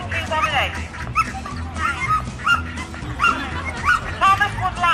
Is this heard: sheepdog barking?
yes